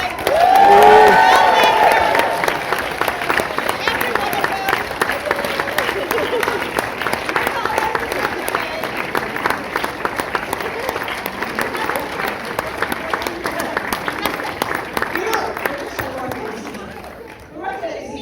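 An audience after a film screening in a cinema gives loud, sustained applause and cheering, with whoops rising at the start, then steady clapping that continues for many seconds before fading off at the very end.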